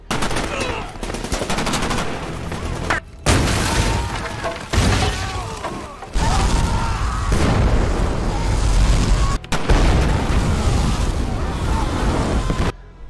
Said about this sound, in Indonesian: menginstruksi Nick untuk meledakkan bom yang telah mereka pasang